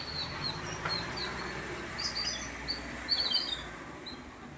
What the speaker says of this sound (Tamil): பாருங்களேன், எவ்வளோ சிட்டுக்குருவி, பார்க்கவே ரொம்ப அழகிய ஒரு காட்சின்னு சொல்லலாம்